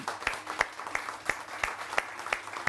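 A studio audience on a Pakistani morning television show claps steadily, with sharp individual claps in a regular rhythm, fairly quiet and a little distant.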